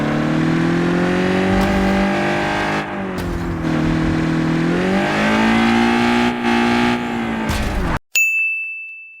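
A heavy video-game car accelerates along a mega ramp, its engine droning and rising steadily at close range, then cutting off abruptly into a sharp bright ding near the end.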